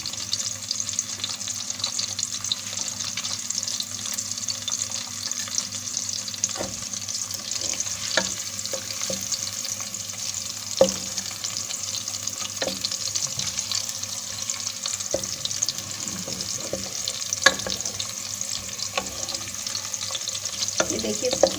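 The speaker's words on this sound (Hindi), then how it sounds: "ये देखिए गाइस, ये प्याज जो है गोल्डन हो रही है।" Sliced onions frying in oil until golden for Kabuli pulao, a steady hissing sizzle throughout with occasional clicks and spatula knocks against the pan, close and moderately loud; no one talks.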